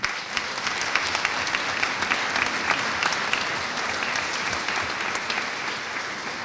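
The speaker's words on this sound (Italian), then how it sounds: "farei un bel applauso ancora più forte al nostro coro" A concert audience at a Christmas concert in Carpignano applauds the choir with steady, full clapping that fills the room from start to finish, busy and continuous without any break.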